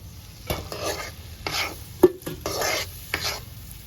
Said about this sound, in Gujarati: લોટ નાખી ને હવે લોટ ને હેકવાનો છે